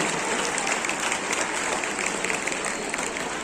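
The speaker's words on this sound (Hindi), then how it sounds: "तालियों से इस्तकबाल करें हमारे मेहमानों" Steady, dense clapping from a large school audience at a high school sports opening ceremony, a bright continuous wash of applause heard from a distance with no clear individual claps.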